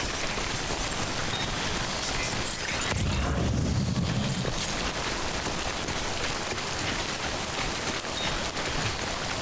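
Rain in the video game Death Stranding falls as a continuous dense hiss of drops, with a brief low rumbling swell partway through, steady and fairly close.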